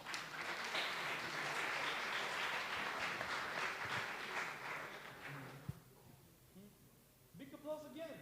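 An audience applauds and cheers at a livestreamed startup pitch event as a presenter comes up on stage, dense clapping for about five seconds before fading into quieter room noise and brief talk.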